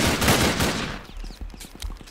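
Airship cannon fire in the Roblox game Zeppelin Wars: a dense rattling burst of shots, then a run of separate sharp reports spaced out in a quick rhythm.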